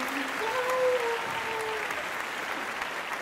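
A crowd claps steadily and evenly throughout, with a few faint cheers and whistles rising above the applause.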